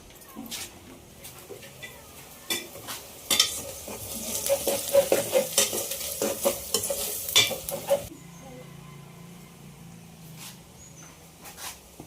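Mutton curry with sambar powder is stirred in a pan, a quick run of close scraping strokes against the metal over a low sizzle, then the stirring eases off into a quieter simmer.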